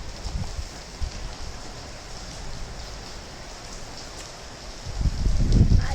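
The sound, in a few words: heavy rain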